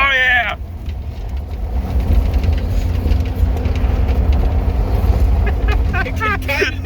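A G-body car's engine revs loudly and steadily up close while its tires spin on gravel, a continuous heavy rumble. A voice speaks briefly at the start and again near the end.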